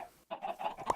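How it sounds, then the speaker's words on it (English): Chicken clucking in the Minecraft video game, a short run of several quick clucks ending in one louder cluck, close and clear with no talk. "let's do chickens too"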